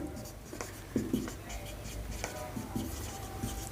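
A pen scratches steadily across paper as a math solution is written out by hand, with short strokes and taps close by, running under a man's speech throughout.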